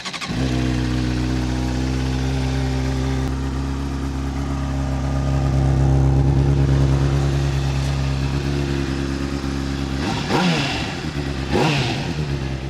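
A stock Honda CBR600 motorcycle with its stock exhaust is cold-started and settles into a steady, close idle, with a couple of brief throttle blips near the end.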